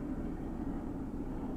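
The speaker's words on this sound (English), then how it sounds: "That's a whole lot of planes." Continuous low droning rumble of several airplanes flying overhead near Aransas Bay on the Texas coast, steady and fairly loud throughout with no voices.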